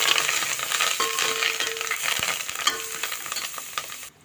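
Curry leaves and dried chillies crackle and sizzle in hot oil as a tempering for tomato rasam, with steady close frying hiss, a few stirring scrapes and sharp pops, then a sudden drop near the end.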